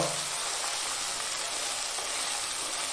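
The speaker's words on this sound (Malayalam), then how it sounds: "നന്നായിട്ട് ഇളക്കാം" Plantain curry pieces sizzle in hot oil in a pan while being stirred, a steady, even hiss of frying running without a break.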